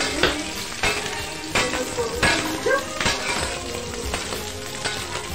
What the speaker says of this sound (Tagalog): Yun, tumitilansik, tilansik na mantika.